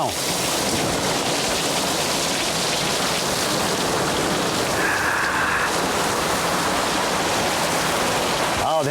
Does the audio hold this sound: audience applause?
no